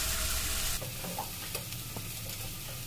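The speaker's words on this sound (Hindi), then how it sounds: "अब इसको 3-4 मिनट ढक के पकाएंगे ताकि टमाटर हमारे जल्दी हो जाए।" Chopped tomatoes cooking in a pan for a lochki kofta curry give a steady close sizzle, with a louder burst at the start that settles into a softer, even frying hiss punctuated by light stirring clicks.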